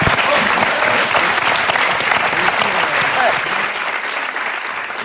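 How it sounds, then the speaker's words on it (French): A television studio audience breaks into sustained applause, a loud, dense, even roar of many hands clapping that holds steady and eases slightly toward the end. "je pense qu'on peut l'applaudir"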